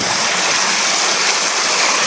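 A formerly dry creek bed now carries strong flowing water, giving a loud, steady, broadband rush that stays close and constant with no talking.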